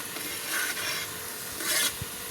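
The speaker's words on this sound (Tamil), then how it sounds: "பிரண்டையை சேர்த்து நன்றாக வதக்க வேண்டும் பொன் நிறமாக வர வேண்டும்" Finely chopped pirandai (adamant creeper) sautéed in sesame oil, a quiet sizzle broken by soft scraping stirs and a light rasp of the spoon against the pan, close and without speech.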